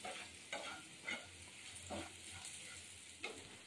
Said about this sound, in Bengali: পেঁয়াজ রসুন আদা সব ভেজেছি